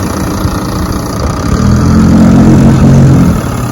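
A vintage 6 hp Evinrude outboard motor runs loud and close on a lake and is shifted into reverse, its steady engine drone deepening and strengthening partway through.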